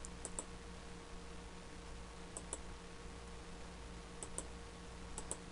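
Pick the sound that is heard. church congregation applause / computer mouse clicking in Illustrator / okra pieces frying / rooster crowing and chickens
computer mouse clicking in Illustrator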